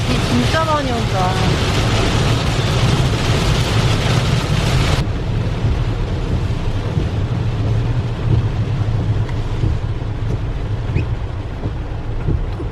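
Heavy rain pours down in a steady, dense hiss with a low rumbling undertone, continuous throughout, heard outdoors during a solo motorcycle camping trip.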